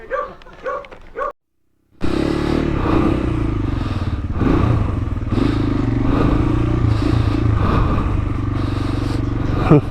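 A KRY 200 motorcycle engine starts after a brief silence and idles loudly, with a few revs rising and falling, close by.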